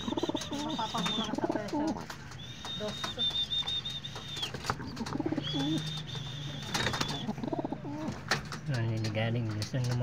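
Pigeons coo in a loft, several soft rolling coos near the microphone repeating over a low background hum, with a few higher chirps and whistles mixed in.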